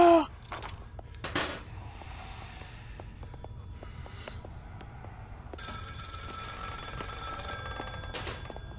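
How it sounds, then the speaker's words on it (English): A telephone rings inside the horror video game Maid of Sker, a repeated electronic bell tone that grows louder and fuller partway through, with a few sharp knocks and faint ambient noise around it and no talking. "Yeah, just answer the phone,"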